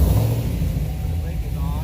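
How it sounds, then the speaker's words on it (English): A 2010–2014 Chevy Camaro engine turns over and settles into a steady, rumbling idle, close and continuous, with a low throaty drone throughout. "make sure this is on neutral, and then start the car"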